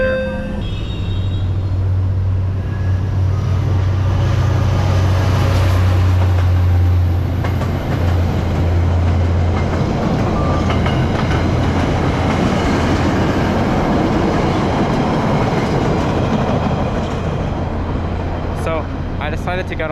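An MBTA subway train runs on its rails, a steady loud rumble with rattling and clatter throughout, a low hum near the start, and brief higher squeals at the end.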